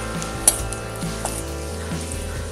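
Curry leaves sizzling in hot oil for a South Indian sambar tempering over a medium gas flame: a steady, close hiss punctuated by a few sharp pops and light clinks.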